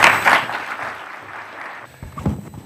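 Audience applause greets a minister at the closing ceremony of a digital forum in Diamniadio, Senegal, a dense burst of clapping that fades away over two seconds before a single dull knock.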